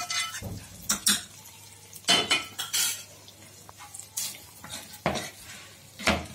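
Tempered seasoning mixture being stirred into vegetable rice in a pot, with repeated scraping and clinking of a spoon against the metal, close and moderately loud in uneven bursts, no one speaking.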